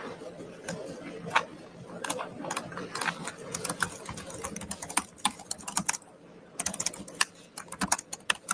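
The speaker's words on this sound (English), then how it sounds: "There's some serious typing going on." Rapid, irregular keystrokes on a computer keyboard in a hearing room, coming in bursts and short runs with brief pauses over low room hum and faint background voices.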